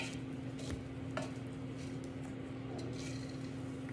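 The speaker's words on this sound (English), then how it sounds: "Just be sure to stir this really well." A spoon stirs a heavy pan of homemade granola made from rolled oats, giving soft close scraping and squishing sounds over a low steady background hum.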